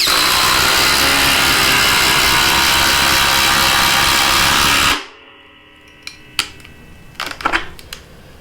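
A cordless impact driver drives a 3/4 inch socket on a lag into a 4 inch piece of wood, a loud continuous hammering whir for about five seconds that stops abruptly, followed by a few faint clicks and knocks.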